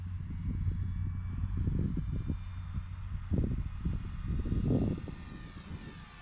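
A Dynam BF 109 RC model warplane flying during landing drills, its small electric motor droning steadily with rising and falling passes, moderately close, with wind buffeting the microphone.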